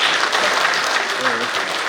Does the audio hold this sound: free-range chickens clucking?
no